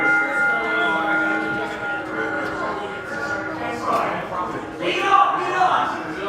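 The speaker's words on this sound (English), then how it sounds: "we have the opening bell here" An opening bell rings at a CZW Dojo Wars wrestling event, giving sustained tonal ringing over a murmuring crowd, with a louder burst of noise near the end.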